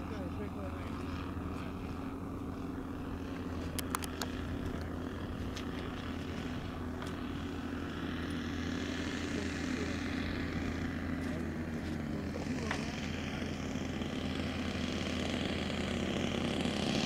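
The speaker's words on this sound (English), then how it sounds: "No flap landing." RC model Cessna Skymaster 337 twin making a landing without flaps: a continuous propeller and engine drone holds throughout at moderate distance, with faint voices and a few brief clicks over it.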